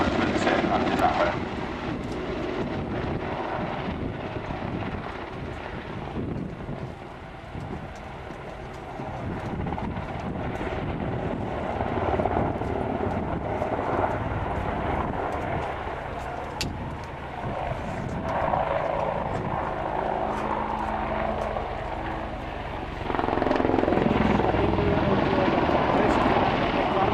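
An AH-64 Apache attack helicopter flies a display at an air show, its engines and rotors producing a continuous heavy roar that swells and shifts as it manoeuvres, with a commentator talking over it.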